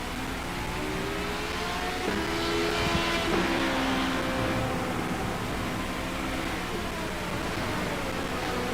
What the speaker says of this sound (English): get another LMP one coming